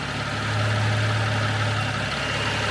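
A Cadillac CT6 with a 3.6-litre direct-injection V6 and AWD idles with a steady low hum and a faint, even mechanical ticking, continuous and close, with no voices.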